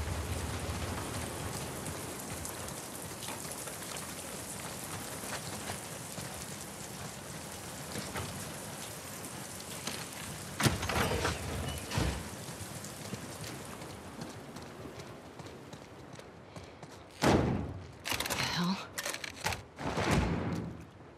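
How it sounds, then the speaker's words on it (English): Steady rain falls in The Last of Us Part II, a dense, even hiss lasting throughout, broken near the end by a few sharper bursts of noise. "Get out of the rain."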